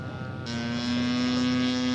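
A scale model airplane makes its first landing at a scale aircraft show, its steady engine drone holding loud and close, with the tone rising and sharpening partway through as it nears.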